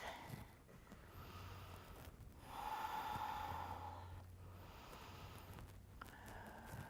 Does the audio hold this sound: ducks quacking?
no